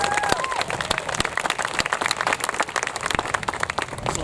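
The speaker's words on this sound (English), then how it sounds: "you can applaud here if you'd like" Wedding guests applaud during a ceremony, a dense, steady wash of many hands clapping that continues throughout at close range.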